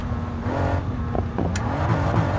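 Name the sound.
supercar engine in a video game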